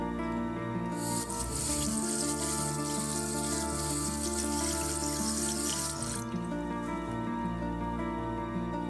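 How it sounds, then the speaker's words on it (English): Tap water runs steadily from a kitchen faucet as a water hardness test strip is held under it, a continuous close hiss and splash that carries on throughout, with a tonal musical hum sounding underneath. "simply holding it under the tap water for a couple of seconds"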